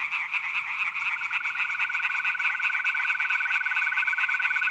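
A dense nighttime chorus of tree frogs, toads and painted frogs calling together, with rapid pulsing trills and a steady high rattling croak that continue unbroken.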